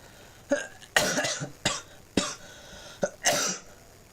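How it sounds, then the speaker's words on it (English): A man coughs repeatedly, about six sharp bursts in quick succession, close and alone. "God, I always had to cough."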